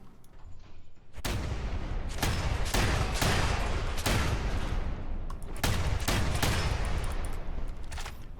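Shotgun blasts in Fallout 4 crack out one after another, seven or eight loud close booms at irregular intervals, each followed by ringing echo, with no voices over them.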